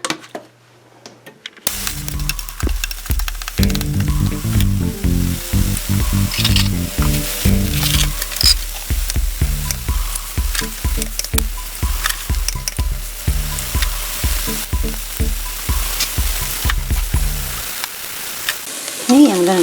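Breakfast sausage frying in a pan gives a loud, steady sizzle, with a quick rhythmic run of stirring and scraping strokes throughout before it fades out.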